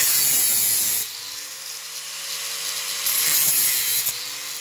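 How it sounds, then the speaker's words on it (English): An angle grinder cuts through metal electrical conduit in a London building, its steady high whine ringing alone and close for a few seconds before settling into a quieter, sustained tone. "that's your first time using an angle grinder as well"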